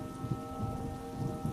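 Steady rain falling in a dense, even patter with scattered close drop hits, continuous and fairly quiet, with no voices.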